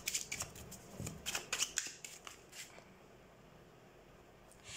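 Tarot cards being shuffled by hand in a quick run of crisp riffling bursts during the first two seconds, then thinning to a few scattered flicks, close and clear over low room noise.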